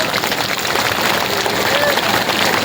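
A crowd at a Dhurwa community Nawakhani gathering claps steadily, a thick, even wash of applause sustained through the whole moment.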